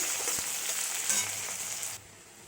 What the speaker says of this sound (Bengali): এবার আমি পেঁয়াজটা দিয়ে দিচ্ছি তেলে।